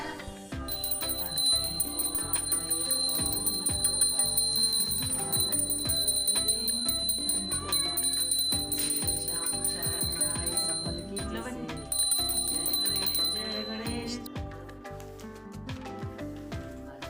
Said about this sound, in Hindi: वो घंटी बजा के नीचे आई